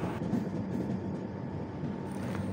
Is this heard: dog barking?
no